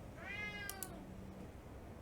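A house cat gives one drawn-out, rising and falling meow, fairly close and clear over a faint low hum, with a couple of tiny clicks partway through.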